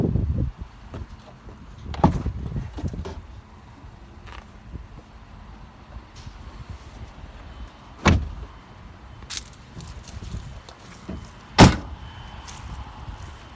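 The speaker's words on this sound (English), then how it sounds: "the pride and joy of the Honda Ridgeline truck, the dual action tailgate" Dual action tailgate on a 2019 Honda Ridgeline RTL pickup being worked, with several sharp latch clunks and thumps spaced apart over a low ambient background, fairly close.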